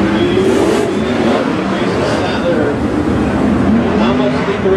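A race car on the Tulare dirt oval during a Trophy Cup B-main roars continuously with a droning, shifting engine pitch, loud and sustained.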